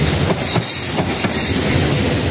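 SKM Impuls electric train passes through Warszawa Reduta Ordona station, a loud, close, continuous roar with rhythmic wheel clatter over rail joints and hissing.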